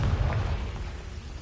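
In the Hogwarts Legacy video game, a Confringo fire spell lands as one loud, close boom with a heavy low rumble that quickly fades into a dull tail.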